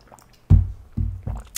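Someone takes gulps of water, giving three soft, wet swallowing thuds in quick succession, close and fairly quiet with near silence between them.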